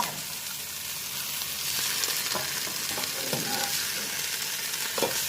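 Pork belly and vegetables sizzle in a hot pot for a Thai chap chai soup, with a steady hiss and occasional clacks of a stirring utensil, close and loud with no talking.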